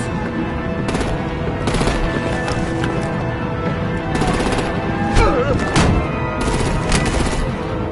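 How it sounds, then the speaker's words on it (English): Steady rattling gunfire in The Batman: The Enemy Within, sustained automatic bursts with sharp cracks recurring every second or so, loud and dense throughout, no voices heard. "Bring out the artillery and disable their vehicles!"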